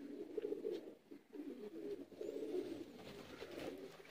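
Kamagar pigeons, including a champion male, coo in low, throaty, repeated rolls close by, the calls rising and falling in a steady rhythm against a quiet background.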